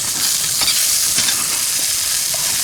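Egg tofu frying in a stainless steel pan, a steady bright sizzle with a couple of soft scraping touches as pieces are turned, close and continuous.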